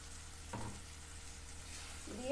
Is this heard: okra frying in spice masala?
yes